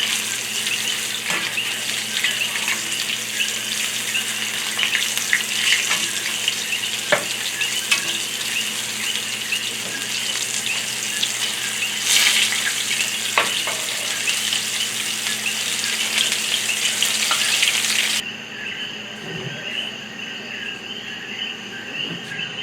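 Peacock bass fries in hot oil in Puerto Rico, a loud continuous sizzle and crackle with scattered pops and stirring. The sizzle drops off sharply near the end, and no one speaks.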